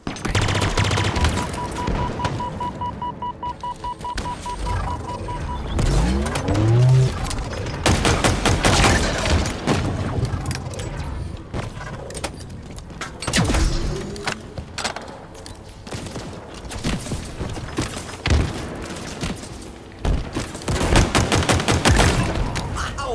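Rapid gunfire from the video game Halo Infinite, dense automatic bursts and single shots packed into long loud volleys with brief gaps, plus occasional thuds and game announcer callouts.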